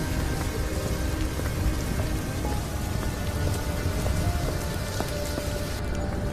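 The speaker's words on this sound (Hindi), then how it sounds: "रास्ते में बहुत जोरों से बारिश शुरू हो जाती है।" Heavy rain pouring down hard and steadily, a dense, loud hiss of drops hitting surfaces with no break, used as a cartoon sound effect for a sudden downpour on a village road at night.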